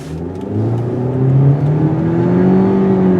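A 2020 Mitsubishi Eclipse Cross SEL 1.5T accelerating hard through simulated gears selected with steering-column paddles, its engine note climbing steadily and loud from inside the cabin, with no talk.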